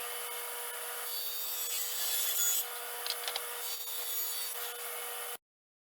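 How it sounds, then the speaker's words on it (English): A 1/2 inch MDF board is ripped on a saw, giving a steady, bright, hissing cutting sound with a constant high whine that swells briefly midway and then stops abruptly. "So I'm going to take a piece of 1/2 inch MDF, rip it down to 6 inches"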